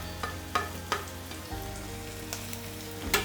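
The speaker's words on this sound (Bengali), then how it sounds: "এখানে পেঁয়াজগুলো ভাজা ভাজা হয়ে আসছে, একটু হালকা, বেশি ভাজা হবে না" Sliced onions and onion shoots sizzle steadily in a pan for an egg snack, with a few soft clicks of stirring; the frying grows louder and denser partway through as the shoots go in.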